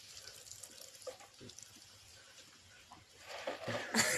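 Tap water runs softly into a kitchen sink while chopped vegetables are washed, a faint steady trickle with small splashes that grows louder and more splashy toward the end.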